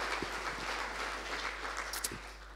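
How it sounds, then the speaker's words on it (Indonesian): A church congregation claps for Jesus in a brief, soft burst of applause: a dense, even patter of many hands heard from a distance, with no talking over it. "Berikan tepuk tangan yang meriah buat Tuhan Yesus."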